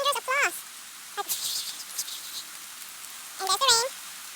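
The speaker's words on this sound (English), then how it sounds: "and there's the rain. There it is. And then it will fall." Rain arrives in the Philippines as a soft, steady hiss of falling drops, while a voice speaks intermittently over it.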